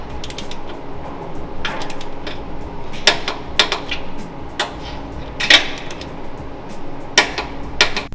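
A torque wrench ratcheting on 15 mm sway bar nuts during a sway bar install on a 2023 vehicle, a steady run of close clicking ratchet strokes with occasional sharper snaps, no speech.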